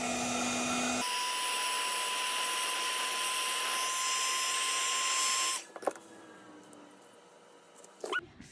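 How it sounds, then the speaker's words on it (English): A handheld heat tool blows hot air to dry acrylic paint on a chip brush, a loud, steady whooshing whine that runs for about five seconds before switching off, followed by faint handling noises. "So I am going to take my heat tool and just give it a quick dry."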